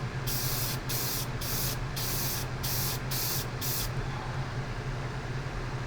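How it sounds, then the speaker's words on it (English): Spray primer hisses out of an aerosol can onto a 1/144 Gundam OZ-06MS Leo model kit in rapid short bursts, several close, loud sprays in a row with a steady low hum behind, then stopping. "Just spray it on like so."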